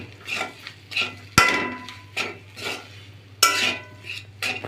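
Grated potatoes being stirred and mixed with fried ingredients in a pan, a spoon scraping and clinking against metal in repeated strokes, with a couple of sharper knocks, close and fairly quiet.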